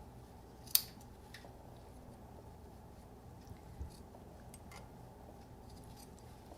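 Scissors snip the fabric of a tailored collar in a quiet room, giving a few faint, brief cuts spread across a low steady background hum.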